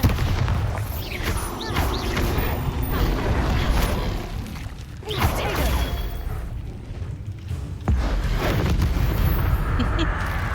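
Bombarda spell blasts in Hogwarts Legacy combat, dense booming explosions and rumbling impacts layered over constant action noise, loud and close with a few sharper hits standing out.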